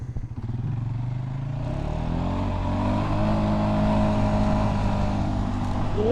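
A Polaris Sportsman 570 ATV engine climbs a steep hill, its drone rising in pitch and holding a strong, steady roar close by with a faint clatter underneath.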